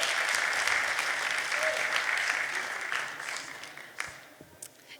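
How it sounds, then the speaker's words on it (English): An audience at a 2023 African fashion show in Portland applauds for a sponsor. The clapping is dense and sustained, then thins and fades toward the end. "round of applause for Miss Netta Chilombo."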